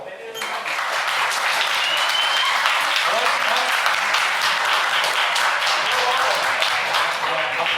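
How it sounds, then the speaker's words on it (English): A debate audience at a Cincinnati craft beer event breaks into sustained applause, dense clapping swelling quickly and holding steady for several seconds. "show of applause, is there no bubble?"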